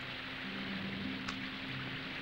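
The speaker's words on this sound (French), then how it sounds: "La pluie entre." Rain falls during a storm in an animated cartoon, a soft steady hiss of downpour with a faint low hum underneath, quiet and continuous throughout.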